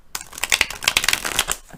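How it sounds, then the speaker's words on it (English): Tarot cards riffled and shuffled in quick bursts, a dense crisp papery flutter of several short shuffles close up, no voice. "we're going to try a few more shuffles."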